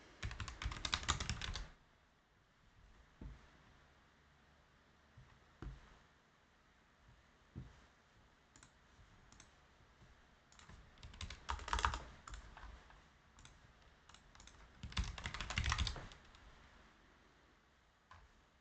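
Keys on a computer keyboard are typed in quiet, scattered clatters with a few denser bursts of rapid tapping, all faint and close.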